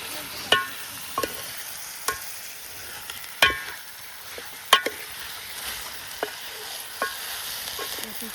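Green chillies fry in hot oil for a village-style chicken curry, giving a low steady sizzle broken by sharp scraping clinks of a spoon stirring the pan every second or so.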